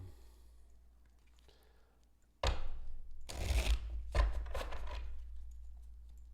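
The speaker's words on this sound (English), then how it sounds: "These cards shuffle so much better." Tarot cards are shuffled in a few bursts of rapid riffling and slapping, close and fairly loud, after a quiet opening.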